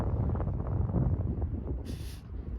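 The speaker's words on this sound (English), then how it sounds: "It's windy." Steady low rumbling wind buffets the microphone throughout, with a brief higher hiss near the end.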